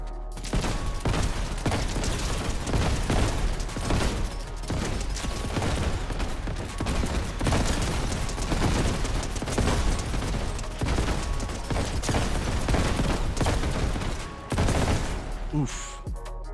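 Rapid, sustained gunfire in a video game fight, with bursts of automatic shots crackling almost continuously at close range, brief gaps between volleys and a sharp crack near the end.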